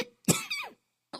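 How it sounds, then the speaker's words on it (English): A woman gives a short double cough, sharp and close, as an audiobook sound effect in The Little Prince, with a brief breath after. "she coughed 2 or 3 times in order to put the little prince in the wrong"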